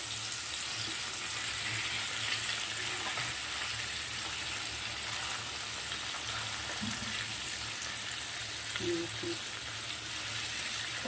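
Katla fish pieces fry on a tawa over a low flame with a steady, even sizzle throughout, close up and with no one talking.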